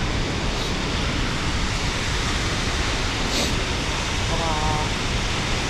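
A small waterfall at Silver Falls State Park roars as a dense, steady broadband rush that fills the whole soundscape, close and loud, with faint voices barely audible beneath it.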